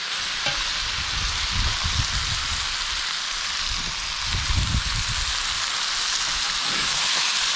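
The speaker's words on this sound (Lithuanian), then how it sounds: "Kepam, maišom, kol gražiai viskas apskrus." Food fries in a kazan over coals, giving a dense, steady sizzle with bursts of scraping as it is stirred. The sound is close and continuous, with no talking.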